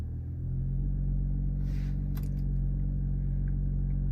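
Audi RS5 with a Stage 2 tune and stock downpipe, held at a launch-control attempt: a steady, loud low engine drone and rumble that holds evenly throughout, with a brief higher whoosh and a few faint clicks partway through.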